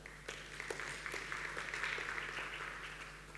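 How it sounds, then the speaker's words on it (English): Conference attendees at Startup Istanbul 2016 give a brief round of applause in a hall, dense clapping that swells and then holds steady, heard from a distance at a soft level. "Round of applause if you've ever worked at a large company."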